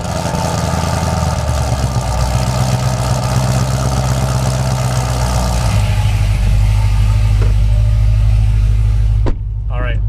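A 2013 Chevrolet Corvette ZR1 60th Anniversary with long tube headers idles with a deep, loud, steady rumble close by, its tone shifting slightly midway before cutting off abruptly near the end.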